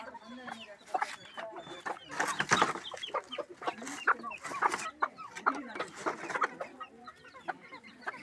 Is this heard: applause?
no